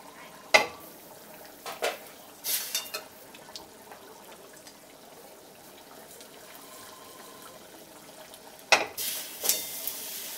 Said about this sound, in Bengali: এর মধ্যে আমি পেঁয়াজ আর শুকনো লঙ্কাটা দিয়ে দিচ্ছি।